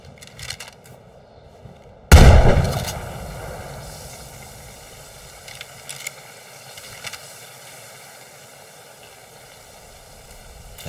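A single loud gunshot in the video game State of Decay 2 cracks out after a quiet start and rings off into a long fading tail, followed by faint game ambience and small clicks.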